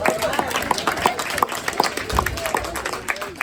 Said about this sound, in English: give a round of applause to the nurses